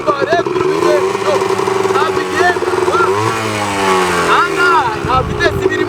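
A gearless motorcycle engine running close by with a steady droning hum and shifting pitch, heard under continuous talking.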